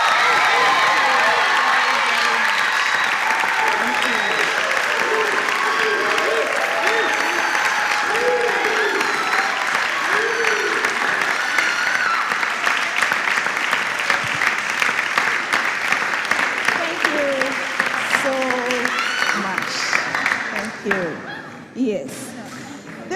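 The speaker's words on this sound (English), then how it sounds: "I will need you to give a resounding applause to all individuals" A crowd at a school contest between junior high schools breaks into loud, sustained applause and cheering that fills the space, dense and close, tapering off near the end.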